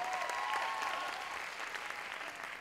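A church congregation applauds steadily in a large hall, a soft continuous wash of clapping heard from a distance, with a faint tonal ring early on.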